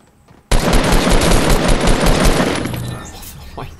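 Rapid automatic gunfire in the Fortnite battle royale video game, a loud dense burst that starts abruptly and rattles on for about two seconds before tapering off, with no talk over it.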